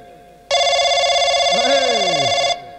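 A telephone rings loudly and steadily for about two seconds, then stops abruptly, with a brief sliding vocal sound over the ringing.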